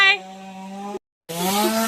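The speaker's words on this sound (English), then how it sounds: "Wiley's using the chainsaw" Chainsaw running steadily and loudly near an off-grid winter homestead, a sustained buzzing drone that cuts out briefly and then resumes at full revs.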